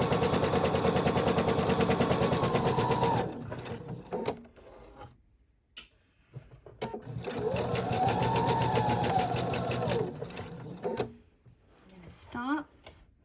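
A sewing machine runs in two long bursts while stitching a fabric mermaid tail, with a pause between and short stops near the end; a voice talks briefly in the gaps.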